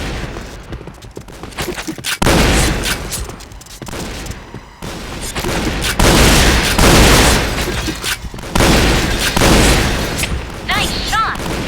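Rapid bursts of gunfire from the video game Point Blank come close and loud, in dense volleys with brief pauses between them.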